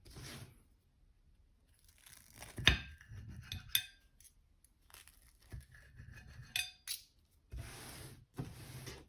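Cutlery cuts through a fluffy homemade pancake on a plate, giving a few sharp clinks and scraping rubs of metal against the plate, spaced out with quiet pauses between strokes.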